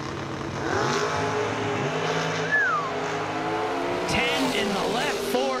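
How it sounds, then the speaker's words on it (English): A dragster and a door car race at a drag strip, engines roaring loud and rising as they launch and scream down the track, with a tire chirp and an announcer talking over the noise. "Dragster versus door car"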